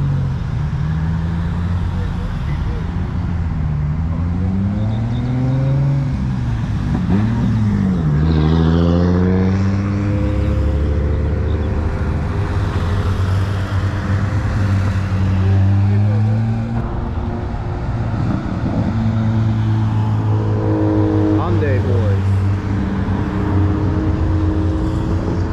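A supercharged car engine at a cars-and-coffee meet revs through repeated rising and falling sweeps, loud and close, with a deep, steady drone and traffic noise underneath.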